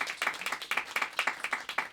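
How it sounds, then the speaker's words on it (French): Audience applause at a French-language talk event: a steady run of crisp, rhythmic claps, about four per second, fairly close and moderately loud, with no talking over them. "applaudissez pour voir si vous n'avez pas du tout d'idée"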